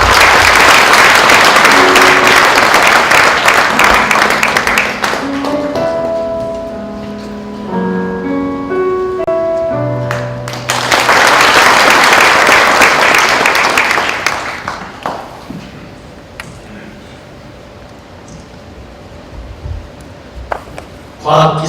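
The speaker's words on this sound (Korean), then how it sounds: "큰 박수로 국회의장님을 모시겠습니다" An audience at a KISTEP anniversary science forum claps loudly for the arriving National Assembly Speaker, dense applause that fades as music plays, then swells again into a second long round before dying away to a quiet room.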